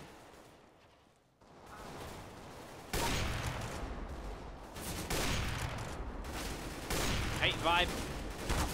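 Gunfire in a CS:GO deathmatch, dense bursts of shots running through most of the stretch after a quiet opening, with a player briefly talking over the action.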